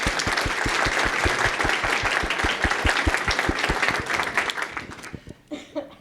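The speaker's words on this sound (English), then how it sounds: "Let's give a round of applause to our high school administrators." Audience at a high school signing day applauds administrators, loud close clapping with distinct rhythmic claps in the crowd, fading out near the end with faint chuckles.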